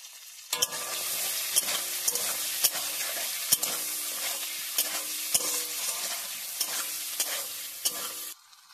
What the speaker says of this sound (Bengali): এবার আমি চিংড়ি মাছগুলোকে নুন হলুদ দিয়ে হালকা ভেজে নেব।